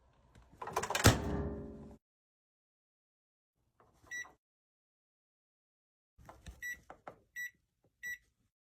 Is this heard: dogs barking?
no